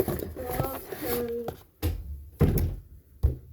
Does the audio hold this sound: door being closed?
yes